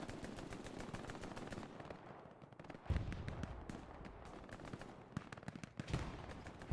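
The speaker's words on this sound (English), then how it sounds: "Some grenades going off." Rapid automatic gunfire and grenade blasts in a Hell Let Loose match at Sainte-Mère-Église, a continuous crackle of shots with sharp louder bursts near three and six seconds.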